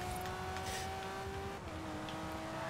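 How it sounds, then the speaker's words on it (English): A V12 or V10 car engine in the racing game Forza Horizon 4 drones steadily at constant revs, a sustained buzzing tone with a slight pitch drop partway, fairly faint. "Forza engine sounds."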